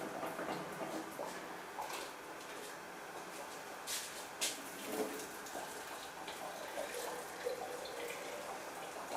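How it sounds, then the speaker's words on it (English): Hot water is poured slowly into a jar in a sink, splashing and trickling softly in a steady, faint stream with a few brief louder splashes, heard alone at close range. "slowly pour the hot water into another jar I've placed in the sink here"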